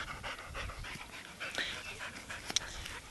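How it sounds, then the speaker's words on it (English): Soft, rapid panting from a puppy close by, a steady breathy rhythm with faint snuffles and a small yip near the end, outdoors with no talk. "super cute puppy."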